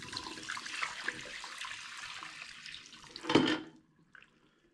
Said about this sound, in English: I'm gonna dump out the water from the extractor here real quick